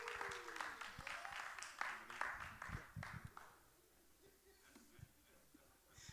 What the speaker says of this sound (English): You can just give her applause as you come.